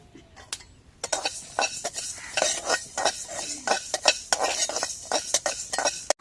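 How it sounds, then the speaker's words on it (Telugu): Mustard, coriander and fenugreek seeds dry roasting in a pan for ginger pickle, a busy rattle of stirring with quick metal clinks of a spoon against the pan, close and uneven, with no talk. "ఆవాలు ధనియాలు మెంతులు బాగా వేగాయి"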